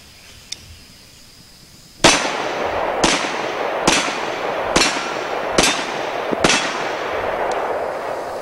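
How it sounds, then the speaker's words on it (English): A .22 Magnum rifle fires six sharp, evenly spaced shots at steel plates, each loud crack about a second apart with a faint metallic ring after, close to the listener outdoors. "I think we're going to shoot some steel plates"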